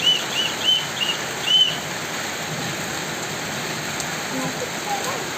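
Steady rain falls with a constant hiss, and a few brief high whistles sound near the start.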